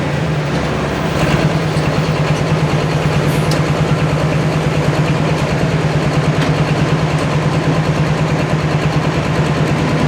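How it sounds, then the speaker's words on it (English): Limited pro stock pulling tractor held at the starting line on the Hillsboro track, its big engine throttled in a steady, loud, rumbling drone that runs unbroken for the full stretch with no talk over it. "you heard Dylan working that throttle down on the starting line, trying to get all that horsepower to this Hillsboro track."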